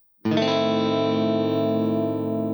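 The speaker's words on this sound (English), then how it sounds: "diminished chords sound like this." A single diminished chord on guitar is strummed once and rings out, sustained and slightly distorted, with a tense, unresolved sound.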